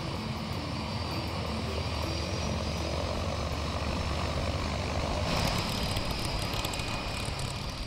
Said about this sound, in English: The Grumman Mallard is a twin turboprop design.